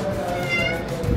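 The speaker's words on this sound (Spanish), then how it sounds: "es un gato callejero, de esos que consigues en todas partes" A stray house cat meows once in a drawn-out, close and fairly loud call over a faint background hum.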